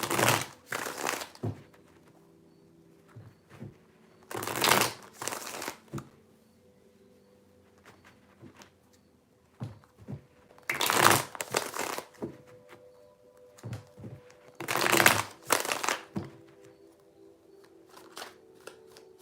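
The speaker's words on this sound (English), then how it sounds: "3 shuffles." Bursts of card shuffling come in several short riffling flurries separated by quiet pauses, close and crisp, with no talking.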